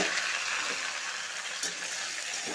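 Pieces of squash and potato are tipped into a pan of hot oil with cardamom, cloves, bay leaves and raisins, producing a steady, close, hissing sizzle throughout.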